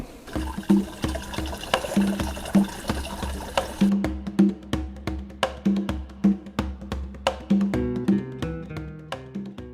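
Fermented banana peel liquid is strained, with wet pouring and trickling followed by a run of sharp, regular taps or drips close by, with no talking.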